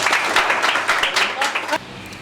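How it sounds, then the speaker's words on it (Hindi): Applause from an audience at an interaction event with toppers, a dense continuous patter of clapping that carries on steadily before dropping away abruptly near the end. "दयाशंकर मिश्रा के लिए एक बार फिर से ताली बजाइए।"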